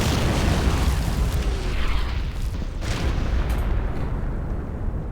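Artillery in a video game keeps firing on an attack-ground command, heavy booming blasts that roll into one another in a dense, loud rumble with no voices over it.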